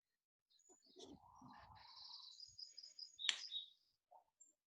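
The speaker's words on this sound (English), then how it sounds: "Who's got the Tweety birds?" Birds chirp close by in a quiet setting, a string of bright twittering calls and sharp whistled notes over a few seconds, trailing off into a couple of isolated peeps.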